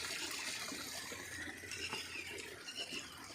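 Water flowing and splashing through a gap underground, a faint continuous trickling gush with small irregular splashes, heard alone without voices.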